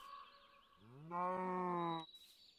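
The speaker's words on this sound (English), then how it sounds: "Cow." A Minecraft cow moos once, a loud drawn-out bellow of about a second with a rising onset, set against quiet game ambience with a faint tone near the end.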